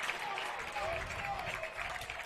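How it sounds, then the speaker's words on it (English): Bedford fans standing and applauding during a girls lacrosse championship game, a steady wash of crowd clapping and cheering in a large venue, with voices mixed in throughout. "She's got a few Bedford fans on their feet here, applauding the effort."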